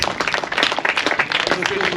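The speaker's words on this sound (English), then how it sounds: "Round of applause for the scorers." Crowd applause honoring the scorers at an under-19 boys' softball championship grand final, dense mixed clapping with a few cheers, steady and fairly close, a voice faintly underneath.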